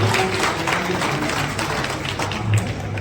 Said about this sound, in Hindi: जोरदार तालियां बजाएं बच्चों के सम्मान में